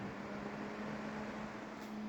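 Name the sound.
PC case fans running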